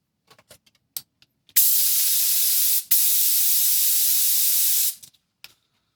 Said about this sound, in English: this doesn't move when I spray the glue on